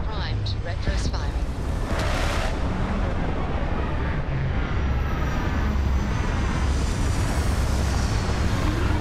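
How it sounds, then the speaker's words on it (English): Spaceship retro thrusters fire during a landing in Starfield, a loud, steady roaring rumble that holds for several seconds, with brief sharp bursts near the start. "Landing struts primed. Retros firing."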